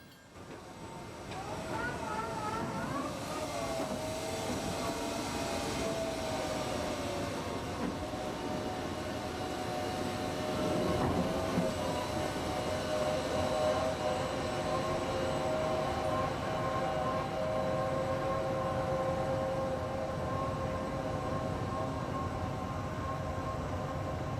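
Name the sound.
Panama Canal electric towing locomotives (mules)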